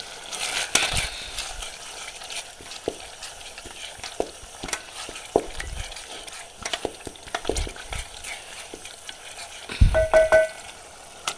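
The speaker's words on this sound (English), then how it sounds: "we are going to stir them so that they can combine all together" Spoon stirring cooked tomatoes with salt and onions in a pot for Kenyan githeri, irregular scraping and wet squelching strokes with soft clinks, close and fairly loud, no voices.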